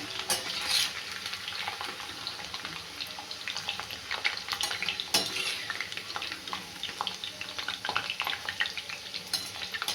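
Potato pieces frying in a pan for a bitter gourd and potato dish, giving a continuous close sizzle with stirring and light scraping throughout, with no talk over it.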